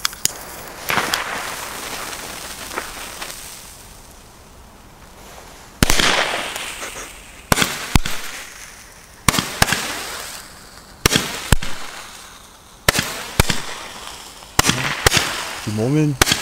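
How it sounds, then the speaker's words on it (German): Nico 20-shot red-green Roman candle fireworks fire a series of sharp, loud pops at irregular intervals, each with a crackling tail, over a quiet outdoor background. "Dann machen wir mal weiter mit den 20 Schuss Nico, sind auch rot-grün"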